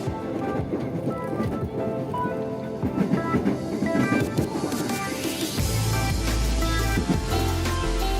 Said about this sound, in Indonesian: Ini suasana KRL-nya guys.